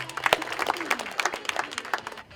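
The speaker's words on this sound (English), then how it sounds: "Give them a big round of applause." An audience at a walleye fishing championship weigh-in claps for the anglers of a boat team: dense, lively applause from many hands, fading slightly at the end.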